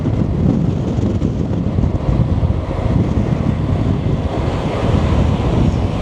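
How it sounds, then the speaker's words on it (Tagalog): Strong wind buffeting the microphone along the coast at Nueva Valencia on Panay Island, with rough sea waves churning underneath in a loud, continuous roar without pause. "So malakas yung hangin, so yung dagat is very rough."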